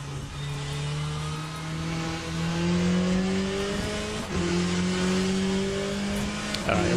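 A GT race car in a racing video game at Sebring, its engine droning loud and steady as it builds speed through rising gear pulls, a brief dip near the middle before climbing again.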